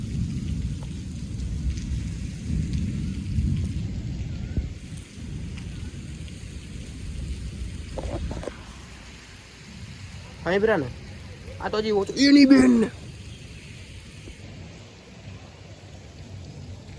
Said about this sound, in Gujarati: હવે બસ હું વાટ જોઉં વરસાદ ગાજે એનો અવાજ બતાવવાની.